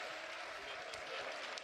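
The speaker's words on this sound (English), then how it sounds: "There's the loud cheer for Ben Bayer" A crowd at a boys' state volleyball championship cheers and applauds in a steady, dense roar that fills a large gym.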